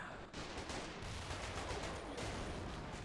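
Ratte tank firing 280mm shells in Men of War: a dense, rumbling barrage of heavy blasts and crackling gunfire, sustained and loud, with a sharp new burst after a brief opening dip.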